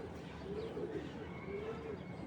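A racing pigeon coos softly twice, two low drawn-out calls set against a steady faint background hum.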